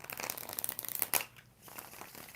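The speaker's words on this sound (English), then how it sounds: "I got to give it 2 more shuffles" Tarot cards being shuffled by hand, a quick run of soft riffling flutters and taps, fairly faint and close, ending in a brief quieter pause.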